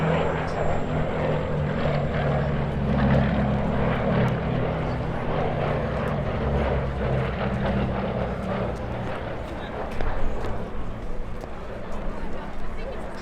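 Westland Lysander aircraft with Bristol Mercury radial engines, a black one leading two others, fly in formation at Duxford, a continuous loud propeller drone with pulsing engine tone throughout, while a commentator talks over it.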